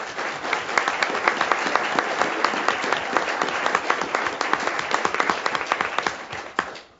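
Sustained applause rises from the audience at a school board meeting, many people clapping together at moderate volume with sharp individual claps standing out, fading away at the very end.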